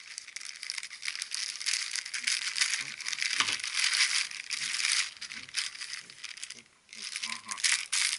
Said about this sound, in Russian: Еще один маленький пакетик.